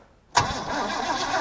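Van engine cranking and catching after a pump of starting fluid, an abrupt start followed by a steady rough idle, close and alone.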